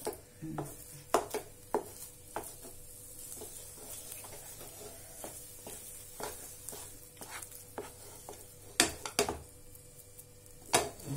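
A spoon stirs a biscuit mixture made with nethrampalazham fruit in a metal pan, giving scattered scraping clinks and knocks at an uneven pace over a quiet background hiss.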